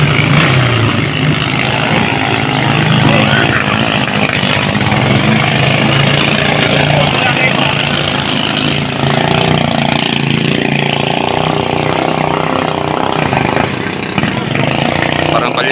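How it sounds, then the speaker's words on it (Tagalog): Racing boat engines run during try-outs before a bangkarera invitational race in Malay, Aklan, a loud continuous rough roar close by throughout, with a voice talking over it. "Tina-try out nila yung mga bangka nila."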